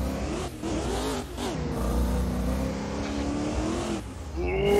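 BMW M4 with V8 race engine in a racing video game, a loud, continuous engine drone that rises and dips in pitch as it revs, with a brief tire squeal near the end.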